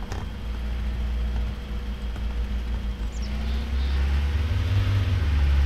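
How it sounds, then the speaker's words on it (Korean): A car engine idles and rumbles steadily in the video game Arma 3, a loud low drone that swells slightly toward the end. "야, 엔진 소리 크게 내지 마라"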